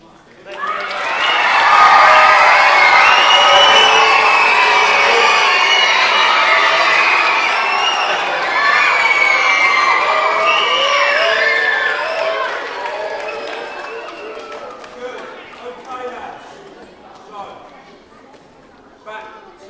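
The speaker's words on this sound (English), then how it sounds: "thank Magic Marc with the loudest round of applause you can muster" Children cheer, shout and clap loudly after a magic show, a dense crowd roar that peaks early and then slowly fades into scattered claps and calls.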